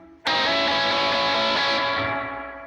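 One heavily distorted electric guitar chord from a guitar solo struck hard and left to sustain, buzzing loudly before slowly decaying.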